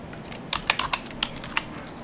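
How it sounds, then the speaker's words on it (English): Several crisp keystrokes tapped on a computer keyboard, irregular and close, with short gaps between them and no voice. "You type CMD right here"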